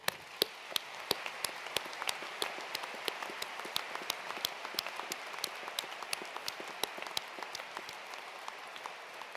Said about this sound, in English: Please all join me to applaud our academic disciplines and their supporters.